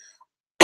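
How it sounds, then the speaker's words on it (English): One sharp, close cough bursts out loud at the very end after a brief silence. "darn this cough, I need it to go away"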